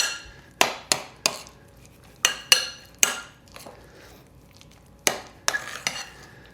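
Burger meat mixed with jalapeno in a bowl, heard as a series of sharp clacks and knocks of a utensil against the bowl in irregular bursts, close and alone.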